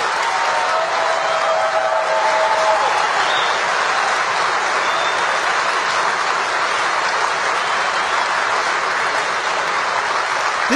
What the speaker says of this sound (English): Listen to that clapping.